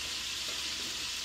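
Cubes of lamb fry in a pan with a steady, soft, close sizzle and no talking.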